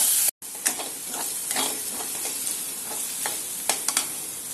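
Onions and shallots sauté in a pan for a Kerala-style jackfruit seed and drumstick leaf thoran, with a steady close sizzle and frying crackle, occasional stirring scrapes, and no talking.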